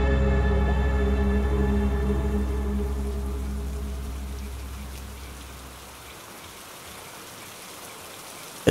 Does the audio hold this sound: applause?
no